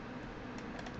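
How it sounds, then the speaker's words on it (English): Typing on a computer keyboard while entering a web address, a quiet patter of soft key taps with a few slightly sharper strokes near the end, faint and alone. "Just type FrostWire.com up into your address bar"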